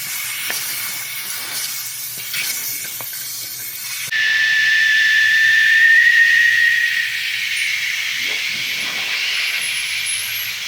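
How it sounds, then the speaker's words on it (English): Air hisses out of a 35-inch off-road tire as a valve core tool deflates it toward 10 PSI. The hiss is steady and fairly loud, then brightens into a sharper, whistling rush for several seconds before easing back. "I'm gonna use my valve core tool to just let all the air out of this tire down to about"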